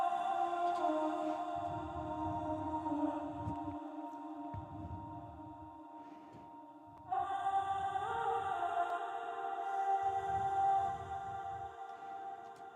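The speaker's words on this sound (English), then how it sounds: "And these vocal chops are going to sound like this." Airy vocal chops from a melodic house track float in sustained, drenched tones over soft pulsing low hits, with a brighter layer entering midway, wide and ambient.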